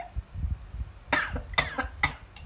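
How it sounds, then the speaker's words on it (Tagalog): Three sharp coughs in quick succession, close and fairly loud, over faint background noise. "May ubo kasi ako ngayon, eh."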